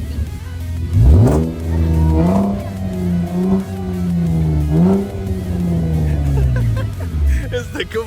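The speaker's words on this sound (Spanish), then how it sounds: "Déjalo que baje y le pégale un acelerón fuerte." A Chevrolet Camaro fitted with a new exhaust revs hard several times, each rise and fall of the engine loud and close, while a person talks over it.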